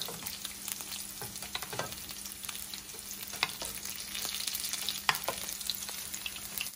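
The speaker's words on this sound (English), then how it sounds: "So we're gonna baste the tacos just so they start cooking evenly." Tacos frying in hot oil and being basted, a steady close sizzle with scattered pops and crackles and occasional spoon stirring, no voices.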